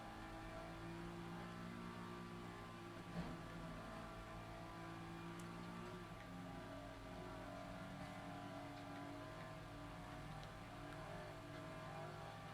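A car engine drones steadily in the driving game FlatOut Ultimate Carnage, a sustained, loud revving hum with layered engine harmonics and no pauses, playing alone without talk.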